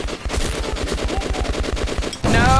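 Steady, rapid light machine gun fire in the post-apocalyptic shooter Metro Last Light, a close, even stream of shots that swells into a louder, harsher burst at the end.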